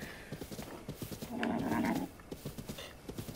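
Galloping horse hooves in the video game Breath of the Wild beat a quick, even clip-clop rhythm. A short whinny or snort cuts in midway, and the whole thing sounds fairly faint.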